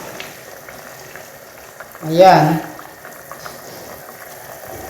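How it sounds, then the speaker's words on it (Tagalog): Water added to a hot pan of beef shawarma, a sudden loud hiss and sizzle that swells for about a second, then settles back to quiet background crackle. "maglalagay po tayo dito guys ng tubig para lumambot yung"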